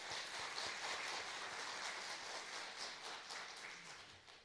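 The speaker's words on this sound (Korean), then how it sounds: "박수할까요?" A church congregation applauds, a dense, even patter of many hands clapping at once, heard faint and steady from a distance before slowly tapering.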